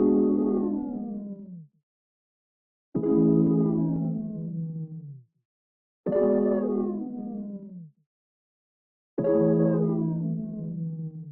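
Four long sustained chords from a lush one-shot sample in an organic R&B-style kit, each swelling in and slowly decaying, with brief silent gaps between them and no voices.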